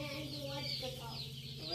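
Chicks and chickens on a farm cluck and chirp softly nearby, with small peeping calls from newly hatched chicks mixed into a steady, quiet farmyard background.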